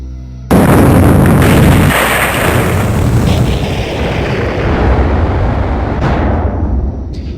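A huge explosion sound effect for the Big Bang: a sudden loud boom erupting after a short quiet start, then a long roaring, rumbling decay with a fainter second burst near the end.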